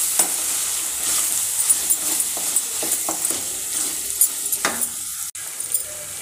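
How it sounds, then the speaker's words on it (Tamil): Maggi masala and chili powder sautéing in a pan for a Maggi pasta dish, a steady close sizzle broken by short scraping stirs and an occasional light clink of the spoon. "போட்டுட்டு நல்லா வதக்கணும்"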